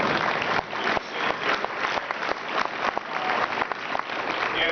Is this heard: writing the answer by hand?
no